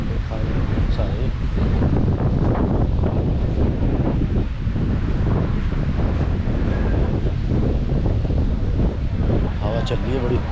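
Strong gusting wind buffets the microphone on a Krabi four-island boat tour, a constant roaring rumble mixed with surf and water sounds, with a voice speaking underneath.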